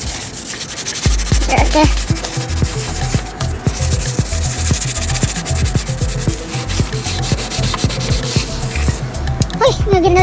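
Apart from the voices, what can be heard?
sanding foggy headlight with sandpaper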